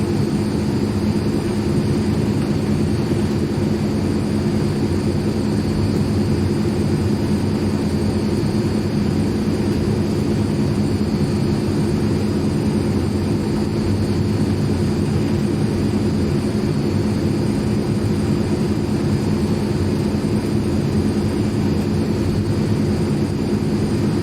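AzurPoly C160 Transall turboprop engines roaring in reverse thrust in a flight simulator game, a loud, steady, droning engine hum that holds unchanged throughout with no talk.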